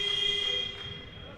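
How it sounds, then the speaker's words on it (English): A buzzer sounds at a wheelchair basketball game, a steady tonal electronic drone held for about a second before fading into arena noise. "so the buzzer's gone, but the time is still running on the clock"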